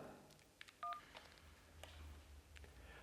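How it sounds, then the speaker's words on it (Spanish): Mobile phone keypad dialing tones as a call is placed indoors beside an electromagnetic field detector: a few short, faint beeps, including one clear dual-tone press, over a low steady hum. "Y ahora voy a hacer la llamada."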